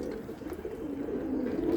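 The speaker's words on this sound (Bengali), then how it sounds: "দেখুন কোয়ালিটি কত ভালো পায়রা" Pigeons cooing steadily at close range, a continuous low warbling murmur that runs throughout with several birds overlapping.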